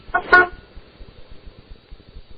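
A car horn gives two short honks near the start, then only a faint low rumble of traffic remains.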